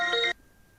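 A telephone rings for an incoming call in one short, bright burst of trilling tone that cuts off abruptly, leaving quiet room noise.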